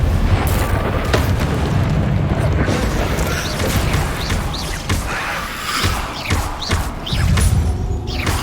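Confringo blasting spells explode in Hogwarts Legacy: a dense run of loud booms and crackling blasts, with several sharp impacts overlapping through the whole stretch, close and heavy.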